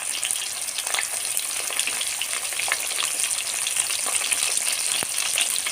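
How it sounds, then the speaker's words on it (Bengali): Potatoes fry in hot oil in a pan, a loud, continuous crackling sizzle heard up close, with steady bubbling and a few faint stirring scrapes and no voices. "তেলটা গরম হয়ে গেছে, এরপর আমরা আলুগুলো ভেজে নেব।"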